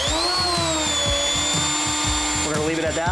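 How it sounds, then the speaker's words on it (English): A Genmitsu 4040-Pro Max CNC router spindle spins up and runs with a steady, loud, high-pitched whine and an even mechanical hum, running continuously without a break. "I'm going to turn the spindle on because you got to do it manually."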